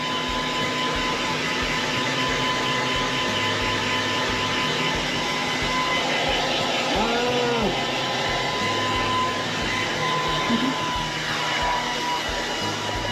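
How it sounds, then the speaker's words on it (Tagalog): At home in Chilliwack, British Columbia, a blower runs for the whole stretch, giving a steady, loud whooshing hum with a few faint tonal squeaks rising over it partway through. "Ganito rin si Pochi, iwas din siya sa blower."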